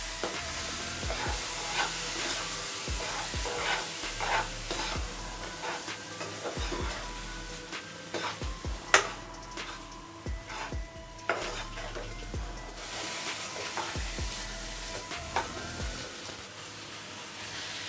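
A ground paste of tomato, onion, coconut, poppy seeds and fennel sizzles in a pan for Tamil chicken kulambu, while a spoon scrapes and stirs with repeated clinks against the metal.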